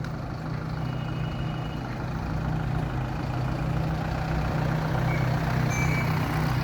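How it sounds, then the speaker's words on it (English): A local town bus idles with a deep, steady engine rumble close by, the drone holding continuously without a clear pull-away, in a Mexican beach town street. "The local bus that stops everywhere."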